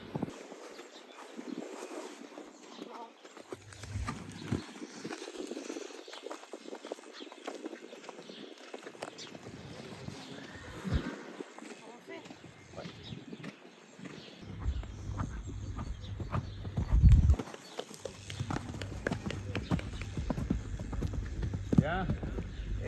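Horse cantering in a riding lesson: soft rhythmic hoofbeats on the ground come and go, near and then farther off, while an instructor speaks French over them.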